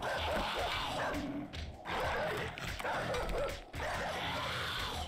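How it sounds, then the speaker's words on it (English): Zombie dogs in the survival video game 7 Days To Die bark, yip and growl while attacking a block, loud and continuous in overlapping bursts with brief pauses. "Can you tell which block that the dogs are attacking?"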